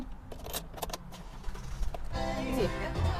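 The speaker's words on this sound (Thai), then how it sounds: "ไปขอสตาร์ทแป๊บหนึ่ง" A white pickup truck's engine cranks and catches about two-thirds of the way through, settling into a low, steady idle after keys jingle close by.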